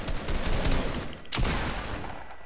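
Assault rifle fire in an online video game pours out as a dense, continuous burst of rapid shots, loud and close, with a brief dip before the firing surges again.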